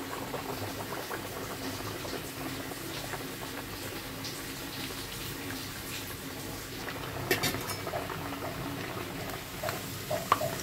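Besan-dough puris frying in hot oil, a steady dense bubbling and sizzling that carries on without a break, with a few brief clinks and scrapes near the end.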